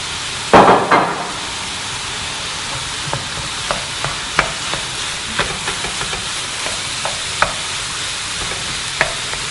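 Pork belly pieces browning in a pan for a spaghetti Bolognese, a steady soft sizzle with a loud clatter at the start and scattered stirring scrapes and taps throughout.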